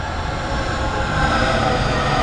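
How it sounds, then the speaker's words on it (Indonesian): A train rolls past at about half past five in the morning with a steady, loud rumble and rail noise that holds throughout. "Tuh, kereta nih"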